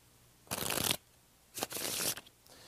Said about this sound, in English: This is called the waterfall shuffle and happens immediately after an in-the-hands riffle shuffle